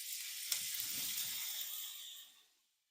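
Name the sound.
salted steak sizzling in a pan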